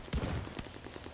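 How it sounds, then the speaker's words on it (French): A heavy anti-tank rifle fires once in a video game, a sharp blast followed by a rumbling reverberant tail, with fainter shots or impacts trailing off in the background. "Alors, c'est un fusil anti-char."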